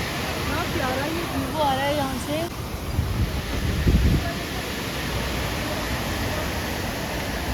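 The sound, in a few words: loud rushing river water at Mahodand Lake, Kalam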